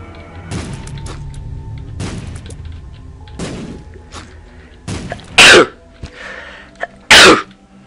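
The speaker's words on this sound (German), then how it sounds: "Entschuldigung, muss ich mal wieder niesen" A person sneezes twice, loud and close, during a Binding of Isaac gameplay session, each a sharp burst rising above softer game thumps and clicks.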